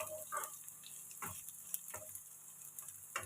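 Onions sautéing in a pan for a brinjal tamarind curry, a faint steady sizzle with a few soft ticks and clicks from stirring scattered through it.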